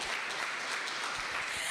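Audience applause at a university parents' night, a steady broadband patter of many hands throughout, fairly quiet and distant with no voices standing out.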